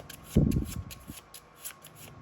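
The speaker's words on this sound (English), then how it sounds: "Good shuffle." A quick riffle of shuffling cards, a soft fluttering burst followed by a few lighter clicks and taps, close and quiet.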